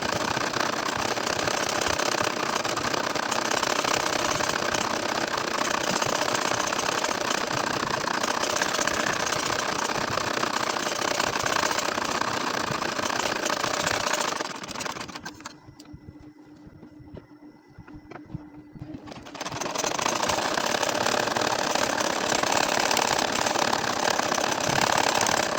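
Sewing machine stitching a nakshi kantha baby quilt, a loud, steady mechanical whir that cuts out for a few seconds of near quiet before starting up again.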